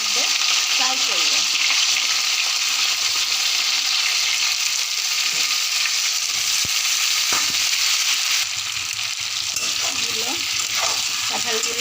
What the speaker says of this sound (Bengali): এবার কাঁঠালগুলো এর মধ্যে ফ্রাই করব।